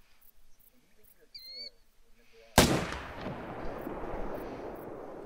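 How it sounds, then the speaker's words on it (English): A single loud rifle shot in theHunter hunting game, a sharp crack with a long rolling echo, after quiet outdoor ambience with faint bird calls. "Oh, you shot that one in the heart."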